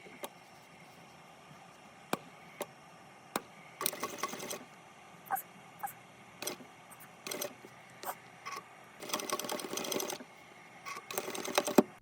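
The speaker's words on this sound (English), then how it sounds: "I'm going to stitch this into place, going over the folded edge, stitching this on, following along the top stitch that we previously had." A sewing machine stitches along the folded edge of a bag, running in several bursts of rapid needle chatter separated by short pauses and small clicks, close and fairly clear with no talking.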